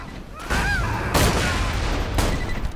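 Gunfire in the Borderlands 2 video game, a dense, loud barrage of shots and booms with sharp bursts, mixed with a few short voiced cries during a co-op fight.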